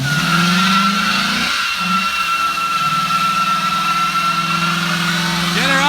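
A car engine revs hard and holds high RPM during a burnout at a burnout spot in Australia, loud and steady with pitch swings, while excited voices cheer over it.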